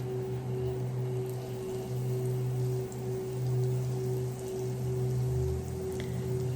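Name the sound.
minced garlic sautéing in melted butter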